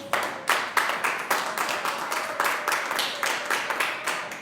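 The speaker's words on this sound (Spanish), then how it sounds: "Denle un aplauso al Señor." A church congregation claps in unison, steady rhythmic beats about three per second over a soft bed of voices, fairly loud and even throughout.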